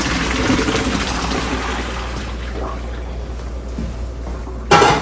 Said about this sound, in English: I have a colander in the sink already. I'm going to drain this into there.